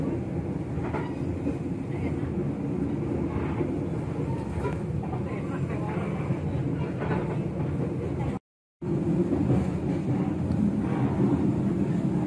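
Pangrango passenger train from Cibadak to Bogor rumbles steadily along the rails near Lebak Jero, a loud continuous rolling drone with faint clacking and a brief cut in the recording.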